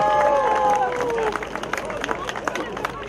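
Crowd applause for the Jaczków village council at an outdoor harvest festival in Czarny Bór, steady clapping and crowd noise throughout, with a tonal instrument sliding down at the start.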